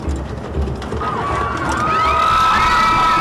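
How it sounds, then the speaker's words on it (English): Several people scream and shout on a safari roller coaster ride in a VR game, with voices rising into loud, sustained, wavering shrieks that build toward the end. "Why are we screaming?"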